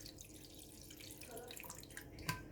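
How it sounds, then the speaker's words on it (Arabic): Plain room-temperature water pours from a tap into cups set out for homemade yogurt, a soft, steady trickle with a faint splash near the end. "هنزل بمية عادية."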